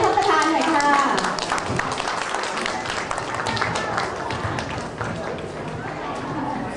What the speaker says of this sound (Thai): ขอเสียงปรบมือให้ท่านประธานหน่อยค่ะ